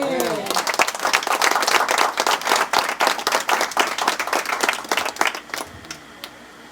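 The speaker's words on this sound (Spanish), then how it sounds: "Denle un aplauso al Señor" A church congregation claps for the Lord during a Spanish-language service, producing dense, loud, sustained applause that thins and fades out over the final second or two, with a voice briefly audible at the start.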